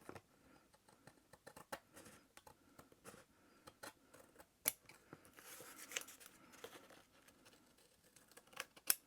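Scissors trim small paper scraps from the edges of junk journal cards, making faint, irregular snips and light paper rustles close by.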